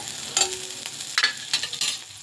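Green chillies fry in a little hot oil for a red chutney served with veg momos, sizzling steadily while a spoon scrapes and stirs in several short bursts, close and fairly loud, with no talking.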